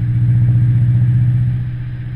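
Steady, loud light aircraft engine drone at 1800 rpm, a DR400, with a deep low hum and rumble, holding an even pitch throughout with no other sounds over it.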